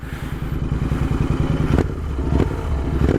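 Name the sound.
cafe racer motorcycle engine revving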